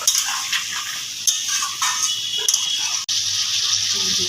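Water poured into a pot of simmering fish curry with potato, eggplant and bori and stirred, giving a continuous sizzling, bubbling hiss with light scraping and brief breaks, close and fairly loud.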